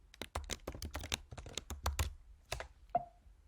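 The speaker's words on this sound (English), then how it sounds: "Then type in your password." Quick keystrokes on a Mac computer keyboard as a password is entered: a rapid run of close, crisp clicks, a brief pause, then a few final taps with a sharper last key.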